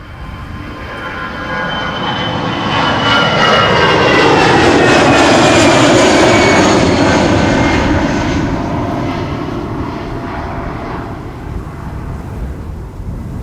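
An Airbus A319 airliner, an EasyJet jet bound for Göteborg, takes off from Amsterdam Schiphol's Polderbaan runway, its engine roar swelling to a loud, sustained peak and then slowly fading.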